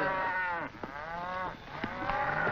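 Cows low in long, drawn-out moos, several overlapping calls close by and loud, in an old 1959 Italian film scene.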